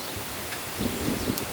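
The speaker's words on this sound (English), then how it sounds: "Ooh, it is windy" Steady broadband wind noise blows across the microphone outdoors on a windy, sunny morning in Ann Arbor, a constant rushing hiss with a few soft low gusts toward the end.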